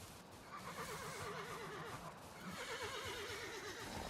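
Horse whinnies twice with a wavering, warbling call while riding in Valheim, over a steady bed of hoof clatter and game ambience; no talk.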